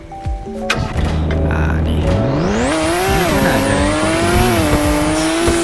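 A race car in a video game, driven in an event car, roars with rising, shifting engine pitch and loud, sustained tire squeal through hard cornering, close and continuous with no talk.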